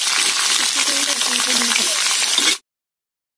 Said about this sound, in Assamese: আমি পিয়াজটো অকমান কাঢ়াকে ভাজি লৈছো